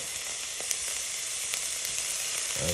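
Banana fritter batter hisses in a little oil in a pan, a dense, even sizzle close by that holds at one loudness throughout, with no voices.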